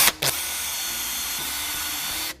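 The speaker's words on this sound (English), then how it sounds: "Drill's really easy, by the way." A power drill drills into a lacrosse ball, whirring steadily at close range for a couple of seconds after a brief start and stop, with a constant high-pitched motor whine.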